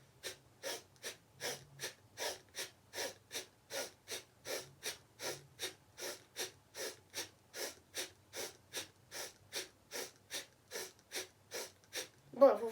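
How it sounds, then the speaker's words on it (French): Bhastrika yogic breathing, a fast, steady series of forceful nasal breaths, about two per second, close and moderately loud, with no talking over it. "Lorsque je fais un Bhastrika, une respiration yogique, on rythme cette respiration"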